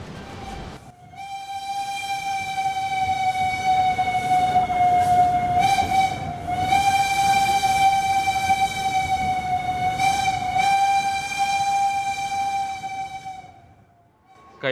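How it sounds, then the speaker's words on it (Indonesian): A Lodaya New Generation passenger train's horn blares in a long sustained tone over the rumble of rolling cars, fading out near the end, on the trip from Solo to Bandung, Indonesia. "Dan ini dia perjalanan naik kereta api Lodaya New Generation dari Solo menuju ke"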